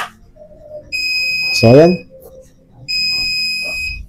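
Carwash coin vending machine alarm buzzer sounds in two loud sustained electronic beeps, each about a second long, with someone speaking in between and over the start.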